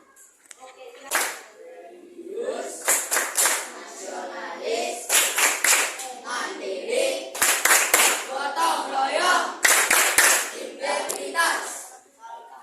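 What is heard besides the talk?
group clapping the 'tepuk mustika' rhythmic clap chant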